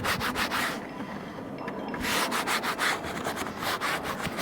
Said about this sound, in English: You wanna use a stiff brush. These are usually used for tires, so tire brush.